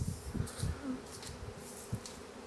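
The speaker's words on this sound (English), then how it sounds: "bees sound different when they're flying and aiming to kill you" Honey bees buzzing in an outdoor bee yard during a cell builder setup, a low droning hum that swells and fades as insects fly close by, with no speech.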